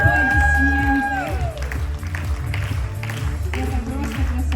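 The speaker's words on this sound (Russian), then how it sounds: "Аплодисменты." Audience at a concert performance in Dagestan clapping and cheering loudly, mixed with whoops and crowd noise over ongoing music with sliding tones, a busy, energetic hall sound.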